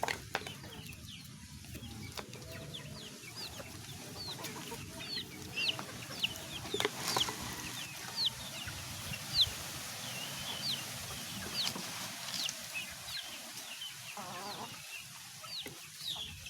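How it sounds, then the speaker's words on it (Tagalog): Chickens cluck and squawk steadily around a farmyard in a busy, close flock, with brief wing flaps and repeated short calls over a constant outdoor background. "Napakarami natin manok rito."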